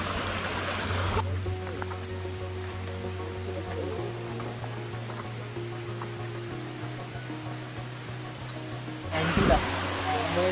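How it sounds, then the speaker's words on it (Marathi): A small mountain stream on the Shingu Devi trek near Bandhawadi, flowing as a steady broadband rush of water that stays close and even throughout, with a brief louder splash near the end and no talking. "तुम्ही बघू शकता पाण्याचे झरे"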